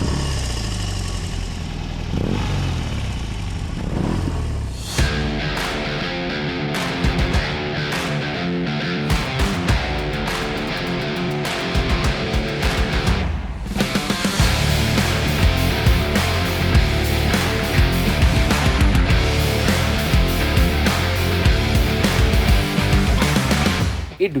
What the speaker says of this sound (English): the deep rumble from the exhaust pipes is a constant reminder